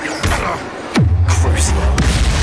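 A Bombarda explosion spell in the Hogwarts Legacy video game bursts with a loud, deep boom, followed by a rumbling low roar with repeated thuds.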